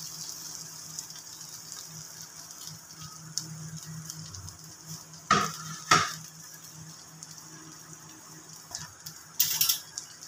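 Food frying in a pan is stirred and mixed, with a few sharp scraping strokes of a spoon against the pan over a low, steady sizzle.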